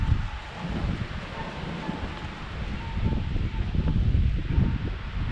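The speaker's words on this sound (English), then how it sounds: "It's crazy windy." Strong wind buffets the microphone in steady low rumbling gusts, with a roaring rush that swells and eases throughout.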